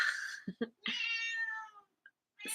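A cat meows several times, close and clear: a long drawn meow, short chirps, then another long meow with a trailing call at the end, with no talk.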